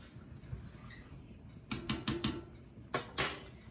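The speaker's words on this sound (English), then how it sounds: "Let that cook, stir my noodles. Make sure nothing's sticking to the bottom of the pan." Noodles are stirred in a pan on the stove, with a utensil clinking and scraping against the metal in two short clusters of quick rattling strokes over a low background hum.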